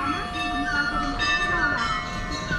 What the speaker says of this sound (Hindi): मंदिर का घंटी सुनाई दे रहा है